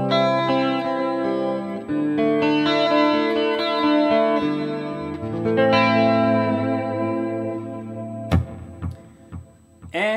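Guitar played through the acoustic preamp of a Valeton GP200 multi-effects unit on a clean tone, ringing chords and single notes with a bright shimmer, loud and close, ending on a few sharp muted strums.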